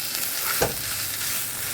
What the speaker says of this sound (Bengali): এই সব মশলা কষাচ্ছি